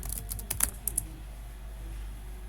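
Fingers tap out a command on a computer keyboard in a VS Code terminal, a quick cluster of crisp keystrokes in the first second, then near silence.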